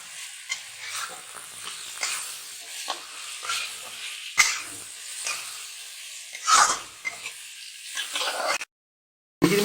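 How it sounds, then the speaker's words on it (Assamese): Spices fry in oil for a boroli fish curry, a soft sizzle with scattered stirring scrapes and clinks, intermittent and fairly quiet, before an abrupt cut to silence. "এইখিনি ভালদৰে ভাজিম"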